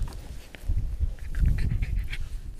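Jack Russell terrier panting on grass beside the water, rapid breathy huffs close to the microphone in an uneven rhythm, with no talk over it.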